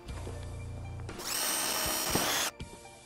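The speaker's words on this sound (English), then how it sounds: "I'm just going to pre-drill two holes with a very small drill bit" A power drill with a very small bit bores pilot holes through wood for screwing on a hanger for an assembly table, a close, steady high whine lasting just over a second after brief handling knocks.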